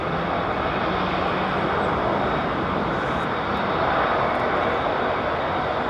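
Delta Airbus A330-900 airliner at London Heathrow Airport, a continuous even jet engine rumble and hiss, fairly close and steady from start to end, without talk.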